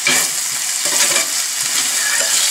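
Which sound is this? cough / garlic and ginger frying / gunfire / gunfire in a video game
garlic and ginger frying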